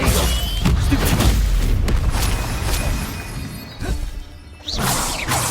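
Spell effects being cast in Hogwarts Legacy, a loud continuous barrage of crashing, shattering bursts and booms, with a few sharper impacts toward the end and no talk.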